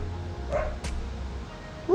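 A household dog gives a couple of short, fairly distant barks and yips against a quiet indoor background.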